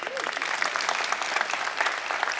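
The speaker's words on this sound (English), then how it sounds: "Let's give her a hand." Audience clapping fills the room in a dense, steady wash of many hands, loud and continuous throughout with no pause.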